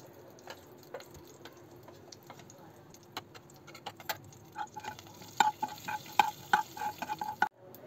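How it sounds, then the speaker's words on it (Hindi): Cumin seeds roast in a spoonful of hot oil in a pan, a faint crackling sizzle that grows busier, with sharp pops and metallic spoon clinks against the pan toward the end. "एक पैन में एक चम्मच तेल को अच्छे से गर्म कर लेंगे अब इसमें एक चम्मच ज़ीरा डालकर उसे भून लेंगे"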